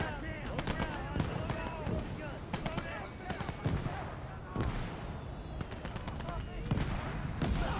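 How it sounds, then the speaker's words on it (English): Captured MG42 machine gun firing in a WWII real-time strategy game, sharp repeated shots and bursts amid a busy battlefield din of other gunfire and explosions, with a voice talking over it. "This, of course, is our captured MG42."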